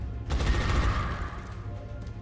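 Gunfire in XCOM Long War, a short burst of rapid shots with a heavy low thump followed by a fading metallic ring and tail.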